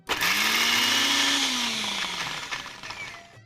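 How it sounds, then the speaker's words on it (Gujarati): A kitchen mixer grinder coarsely crushing green peas in a short burst, a loud whirring motor that rises then winds down after about two seconds, heard alone. "આપણે એને અધકચરા ક્રશ કરવાના છે મિક્સરમાં"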